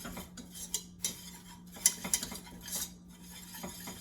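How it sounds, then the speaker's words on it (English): Metal whisk scraping and clinking in a pan as three tablespoons of flour are worked into melted fat over medium heat, a series of close, light clicks and scrapes with brief sharper taps. "Then I'm gonna take our 3 tablespoons of flour and whisk that in"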